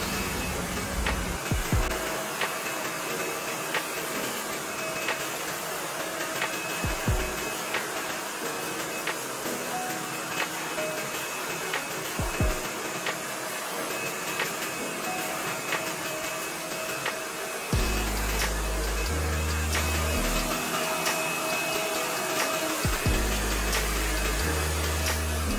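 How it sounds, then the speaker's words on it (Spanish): A hair dryer blows in a steady, close whoosh with a faint high whine while hair is styled in a barbershop, growing louder and deeper around the two-thirds mark and continuing without talk. "con lo caliente del secador no daña el cabello"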